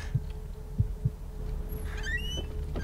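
A faint heartbeat from the video game The Evil Within gives a few soft, low thumps in an uneven double-beat pattern over a quiet ambient hum, followed by a short high whistling sound.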